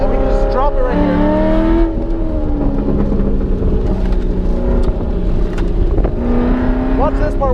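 A Nissan 350Z brakes and turns through a race-track corner; its engine tone drops and climbs again with shifting revs, loud and close from on board, under a constant roar of road and wind noise.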